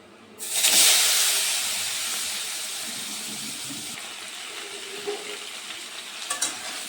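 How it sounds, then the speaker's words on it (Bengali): Potatoes and pointed gourd dropped into hot oil, a loud burst of hissing sizzle that slowly settles into a steadier frying crackle with a few clinks near the end. "এখন আমি এই তেলের মধ্যেই আলু আর পটল ভেজে নেব।"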